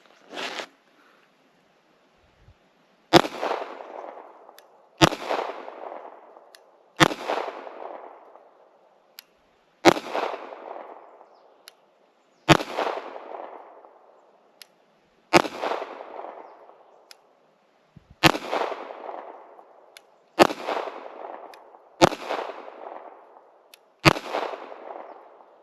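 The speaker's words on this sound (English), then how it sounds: "I'm just going to shoot a 10-round group on there and see where it's hitting. These are the first shots out of the gun." Ruger LCP MAX pistol firing a 10-round group of its first shots, with sharp, loud reports spaced a couple of seconds apart, each trailing a short echoing decay, and no talking.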